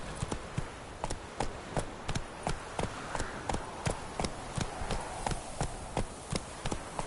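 A horse gallops steadily in the Witcher 3 video game, its hoofbeats falling in an even, rhythmic clip-clop close by and loud throughout, with no talking over it.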